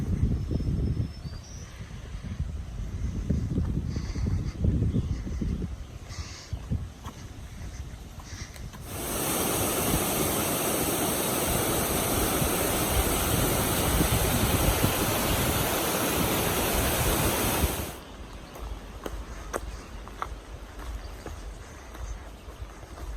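Stream water rushes at a crossing on the Appalachian Trail, a low wash that swells into a loud, close roar for several seconds before easing back to a softer flow.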